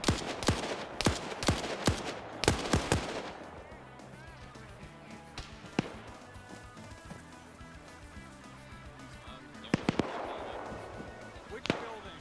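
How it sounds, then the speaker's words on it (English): Gunshots in a military video game ring out nearby: a quick burst of sharp cracks at the start, a few isolated shots later, under a steady hum of game background noise. "there's gunshots over here close"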